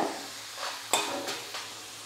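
Urad dal and dried red chillies roast in a pan with a faint crackling sizzle, broken by a few light scrapes and taps from stirring, quiet and close with no voices.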